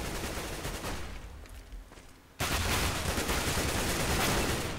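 Counter-Strike gunfire during a competitive match on the map cbble: dense overlapping bursts of rapid shots, a short lull, then a loud sustained barrage of fire to the end.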